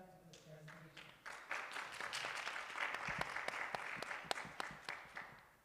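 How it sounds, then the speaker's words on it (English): A seminar audience applauds a speaker at a breast cancer awareness event, with many hands clapping in a steady crowd patter. It swells after the first second, holds for several seconds and then begins to thin, a little distant in the room. "please give a round of applause for Ms. Allison as she comes with the presentation"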